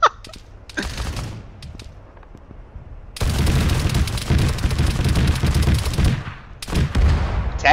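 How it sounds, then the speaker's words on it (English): Artillery barrage in the military video game Arma 3, with several booming blasts followed by a long, dense roar of explosions and gunfire that stays loud and close. "And my own frickin' artillery."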